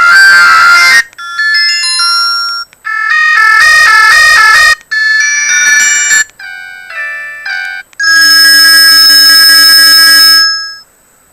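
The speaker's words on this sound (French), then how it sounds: "En appel entrant, voici quelques exemples de musique et de sonneries." A series of loud telephone ringtones for incoming calls, shifting between bright electronic melodies, beeping tone patterns and a sustained warbling ring, each sample starting and stopping abruptly with short gaps and no talking.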